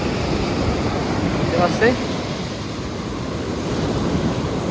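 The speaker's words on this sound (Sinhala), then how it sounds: "මුහුදේ සද්ද වැඩි" Atlantic surf breaks on a long beach in Portugal, a continuous broadband roar of waves with wind buffeting the microphone, while a voice briefly speaks over it.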